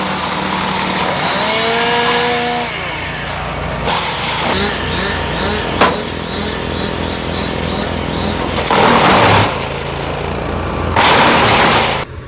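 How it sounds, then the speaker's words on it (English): A wood chipper chipping up tree branches at a tree work site, a loud steady engine drone with bursts of grinding and crunching as branches feed through, continuous for the whole stretch. "everything gets chipped up nice and small through this chipper, and then disposed of in the back of the van"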